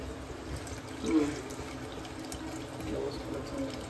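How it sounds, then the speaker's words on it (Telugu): Tamarind juice is poured into boiling sambar, a soft, fairly faint liquid splash and trickle with a brief louder swell, set against a low background hum. "చింతపులుసు ఇట్లా పోసుకున్నాను"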